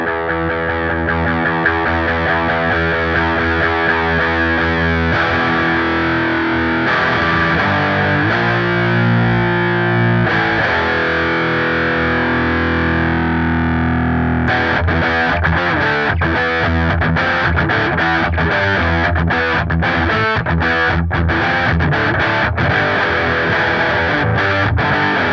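Electric guitar played through a Revv G20 amp with the gain turned up, a dense, distorted tone with sustained chords that give way to fast choppy riffing, loud and continuous with no voices.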